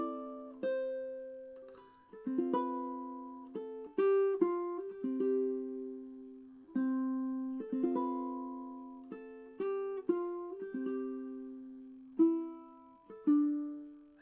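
Fingerpicked ukulele plays the opening line of a song: soft, sparse plucked notes and gentle chords ringing out one after another, quiet and close with no talking.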